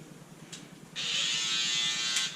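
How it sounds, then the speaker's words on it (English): An electric hair trimmer cutting hair starts after a moment of quiet and runs as a steady, close, high buzz for over a second, with faint handling noise before it. "I'm gonna come in with my trimmer"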